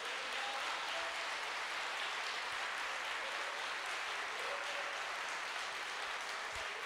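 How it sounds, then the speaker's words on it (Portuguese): Congregation in a church applauding, a steady, even hiss of many hands held at a constant level throughout, fairly distant and soft, with no speech over it. "você pode regar um aplauso ao Senhor por isso?"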